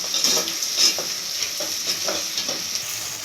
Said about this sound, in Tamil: வழக்கமாக வெங்காயம் வதங்கிறதுக்கு உப்பு போட்டு தான் வணக்குவோம்